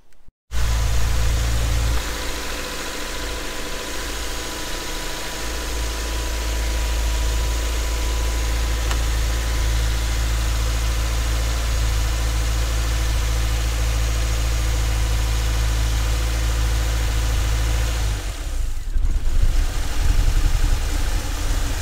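A Subaru Forester engine idles roughly during an intake induction cleaning service, a steady loud low rumble with slight unevenness and a brief dip near the end, no voices.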